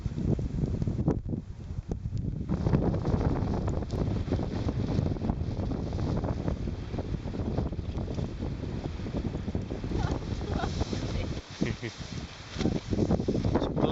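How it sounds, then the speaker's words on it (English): Strong northeasterly wind buffets an open coastal spot, a steady loud roar and rumble of gusts across the microphone that runs continuously with no break. "It's bloody windy this morning."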